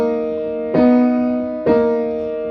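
Piano plays the chorus ending of a song, with two struck chords about a second apart over held notes, each ringing and decaying, close and clear with no talking.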